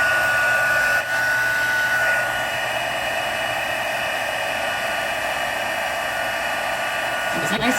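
Heat tool blowing continuously to melt embossing powder over Versamark ink on a stamped card, a steady loud whirring hiss with a faint tonal whine, close by and unbroken for several seconds.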